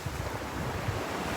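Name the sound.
strong wind blowing outdoors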